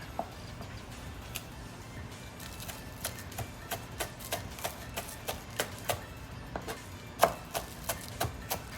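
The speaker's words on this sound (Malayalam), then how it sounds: "നമുക്കിനി സ്പ്രിംഗ് ഓണിയൻ അരിയാം." A knife chops spring onion on a board in sharp, regular taps, roughly two per second, over quiet background noise. The strokes are close and distinct, and one lands harder than the rest.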